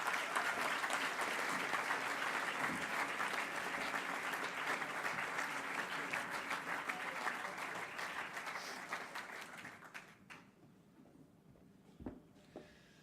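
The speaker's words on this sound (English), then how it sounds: "Ladies and gentlemen, a warm applause for Paloma Sabater Palma." An audience applauds warmly at a ceremony, a dense even clatter of many hands that thins out and fades to scattered claps near the end.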